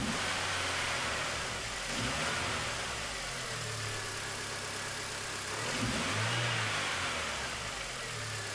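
A MINI Cooper R50 engine revs up twice during a fuel pressure test, each rise in pitch climbing from a steady idle and settling back, close and continuous with no talking.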